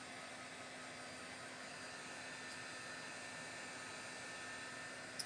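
A hair dryer blows on artwork in a steady broadband whoosh with a faint constant hum, held at an even level throughout and fairly quiet, with no talk.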